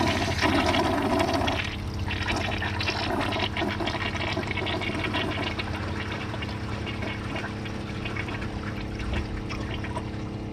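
A 1986 Kohler Wellworth toilet flushes loudly and close, a steady rush of water draining and refilling the tank that carries on without a break for the full length, with no talking.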